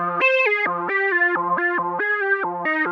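Synth preset with a long decay in legato mode, playing a bright, buzzy repeating phrase of stepped notes that glide into one another without fading, sustained and loud with no speech.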